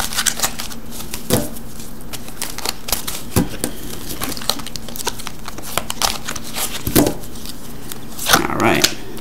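Oracle cards being shuffled by hand at close range: a steady run of soft papery flicks and sharper clacks, with bursts of riffling, over about nine seconds.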